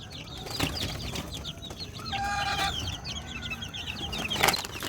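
Young chicks being raised indoors cheep and cluck in a busy, overlapping chorus, with a short burst of wing flapping partway through; the sound is steady, fairly close and carries on alone without speech.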